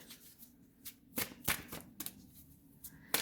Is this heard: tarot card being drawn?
yes